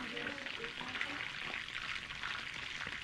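Salmon fillets frying in butter in a pan, a steady close sizzle and crackle running evenly throughout with no pauses.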